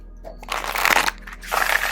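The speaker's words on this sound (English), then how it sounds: "I'm easily shuffling either way." A deck of oracle cards is shuffled by hand in two bursts of riffling, close and crisp, with a brief pause between.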